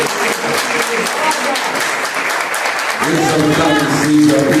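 A church congregation claps in dense, sustained applause for Jesus, loud and filling the room. Music and voices rise underneath toward the end.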